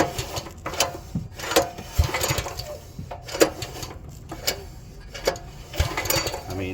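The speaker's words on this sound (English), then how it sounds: "we'll actually use the pull cord and see what that does" A small pump engine is turned over by pull cord with the ignition off, giving an irregular series of mechanical clicks and ratcheting rattles up close.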